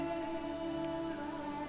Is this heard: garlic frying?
no